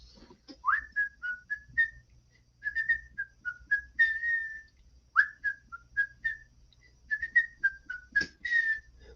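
Someone whistles a melody on their own, mixing short chirped notes with longer held tones in phrases separated by brief pauses. The whistling is clear but fairly quiet, with no talking.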